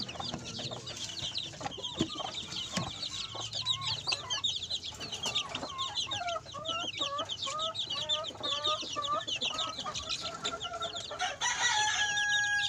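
A small backyard coop full of chickens, including newly hatched chicks, fills with busy overlapping clucks and cheeps, with a rooster crowing near the end; the birds are close and steady throughout, with no talking.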